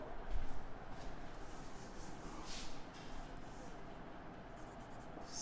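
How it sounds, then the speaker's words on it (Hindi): Faint scratching of writing on a board during an organic chemistry lesson on nomenclature, a soft continuous rasp heard at a distance while a man teaches in Hindi. "मैं इसको यहां लिखता हूं"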